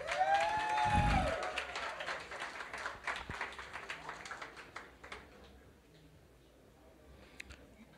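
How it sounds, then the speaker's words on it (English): Audience applause at an awards ceremony: a dense burst of many hands clapping that swells early, then thins into scattered claps and fades over several seconds. "Give her another round of applause, please."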